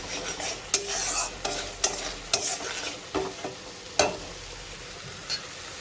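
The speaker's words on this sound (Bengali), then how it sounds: "আমি ভালো করে কষিয়ে নিচ্ছি।" Doi katla, a Bengali yoghurt fish curry, frying and being stirred in a pan, with a steady close sizzle broken by several sharp scraping strokes of the spoon.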